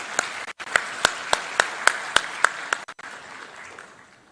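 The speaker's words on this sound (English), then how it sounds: "Please welcome with a round of applause." A short burst of crowd applause with a few sharp, regular claps standing out, fading away after a few seconds.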